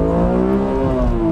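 A BMW Z4M Coupe engine revs hard from inside the cabin, a loud, steady rising howl with strong harmonic layers climbing in pitch over a little more than a second, no talking.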